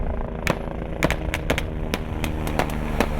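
Rapid sharp gunshots fired from a moving aircraft during a police aviation demonstration, a string of distinct cracks at irregular intervals over steady rotor or engine drone.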